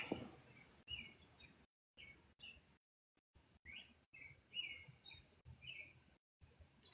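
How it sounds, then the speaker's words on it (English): Birds chirp outside beyond an open window, faint and distant, with short intermittent calls scattered through an otherwise quiet room. "My window is open. That's why I can hear them damn birds."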